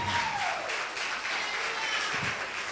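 Church congregation applauding during a Spanish-language sermon, a dense, steady wash of clapping that holds at even loudness for the whole stretch, with a faint tone gliding downward at the start.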